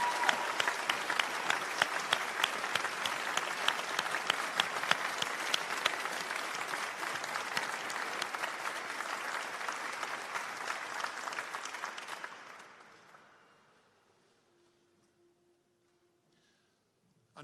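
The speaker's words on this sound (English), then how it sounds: "Huge round of applause, please." Graduation ceremony audience applauding an acupuncture degree graduate, a steady wash of many hands clapping for about twelve seconds, then fading quickly into near silence.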